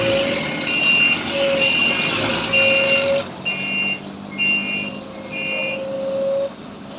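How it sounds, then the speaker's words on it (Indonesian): Truck on the steep Sitinjau Lauik mountain road in Indonesia, engine rumbling with a repeated series of high reversing beeps in regular pulses, loud and close throughout. "Truk lansir."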